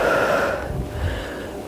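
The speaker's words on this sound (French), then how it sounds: "inspire et expire" Heavy breathing in and out during squats in a workout session, a loud wheezy exhale followed by a softer, rougher breath, close to the microphone with no talking.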